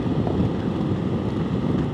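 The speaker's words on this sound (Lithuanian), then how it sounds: "Čia vėjas jau yra." Wind blowing hard during a motorcycle trip through the Austrian mountains, a loud, steady low rumble buffeting the microphone without a break.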